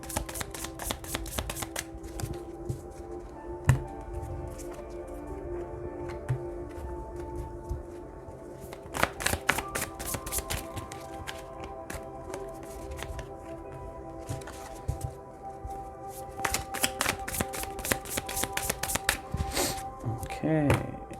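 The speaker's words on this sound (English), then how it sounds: "So I will shuffle on camera first, and then we will begin." A deck of tarot cards being shuffled close up, with repeated crisp riffling bursts and soft slaps in irregular runs, under occasional talk.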